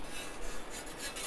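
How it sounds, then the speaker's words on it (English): Stuck pizza being scraped off a hot pizza oven floor, a steady, close rasping scrape that runs without a break for about a second, with no talking. "I'm going to try and scrape that off."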